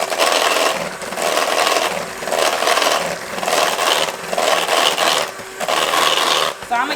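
A spatula scrapes thick vanilla caramel pound cake batter down the sides of a mixing bowl in steady, repeated rasping strokes with brief pauses between passes, close and fairly loud.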